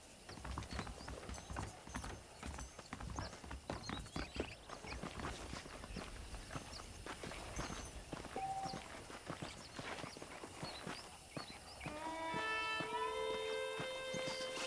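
Horse hooves clip-clop steadily through the Red Dead Redemption game world, a continuous walking rhythm carried along under ambient game sound, with a brief tonal musical swell rising near the end.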